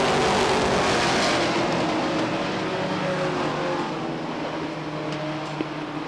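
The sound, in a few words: race cars racing at speedway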